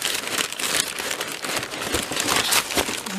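Plastic wrapping on a tape-sealed package of gouache paint crinkles and crackles steadily as it is pulled open, a close, continuous rustle with no speech.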